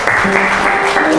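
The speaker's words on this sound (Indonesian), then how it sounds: "tepuk tangan dulu yuk" Short burst of audience applause for student group 3 in a classroom, steady dense clapping throughout with a voice speaking over it.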